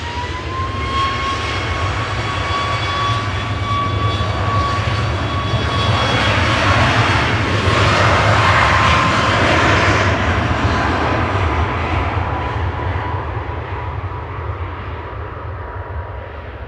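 A Ryanair Boeing 737 Max 8 jet departs Manchester Airport, its engines giving a loud, sustained roar with a whining tone that swells to a peak midway and then slowly fades into the distance.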